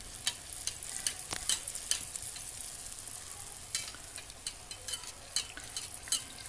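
Kue cucur batter frying in hot oil while oil is spooned over it: a steady, close sizzle runs throughout, broken by light scrapes and clinks of a utensil against the pan.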